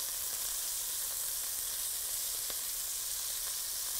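Lamb meat browns in a pot with a steady, hissing sizzle that stays even and fairly faint throughout, with a few small pops and no talk.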